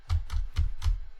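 Four evenly spaced, heavy clacks from a clanky computer keyboard, each a sharp thump close to the mic, with no voices.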